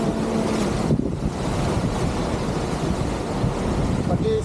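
Ocean waves and wind on the water while fishing for snapper, a continuous loud rushing wash with buffeting wind noise and no clear speech.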